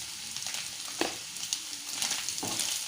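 Egg fry sizzling in a pan with chili powder as it is stirred, a close, steady hiss broken by scraping stirring strokes.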